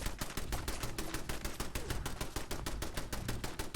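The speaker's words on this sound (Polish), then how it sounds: "Działko do mnie strzela." A turret in Fallout 4 firing at the player: a fast, steady burst of rapid gunshots repeating without pause, loud and continuous throughout with no talk.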